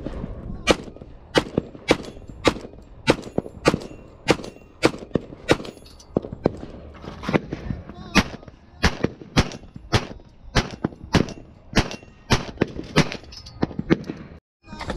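Pistol shots ring out at an outdoor desert range at Hodge Road, about two dozen sharp cracks fired in a fairly steady rhythm, loud and close, with short pauses between strings.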